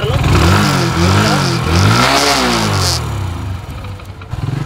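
A motorcycle engine runs near and loud, revving up and down in several swells of rising and falling pitch before settling to a steady idle, with someone talking over it.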